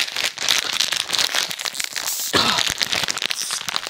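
A plastic bag of children's birthday party supplies being torn open, with continuous loud crinkling and crackling plastic and a sharper burst of tearing partway through.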